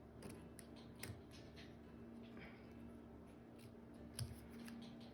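Scissors trim small paper pieces beside a photo on a craft project, giving a quiet, close series of snipping and creaking blade sounds against a soft background hum.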